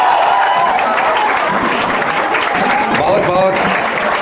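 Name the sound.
students applauding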